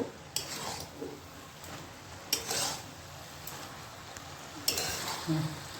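Shredded cabbage cooking down in a pan for a Bengali vegetarian ghonto, stirred to dry off its water: a soft sizzle runs throughout, with repeated scraping stirs and light clinks of a utensil against the pan, close and moderate.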